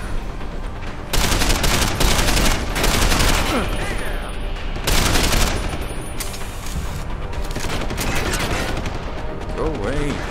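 Video game gunfire from an assault rifle in Deus Ex: Human Revolution, long dense automatic bursts, loud and close, with brief pauses and faint voices underneath.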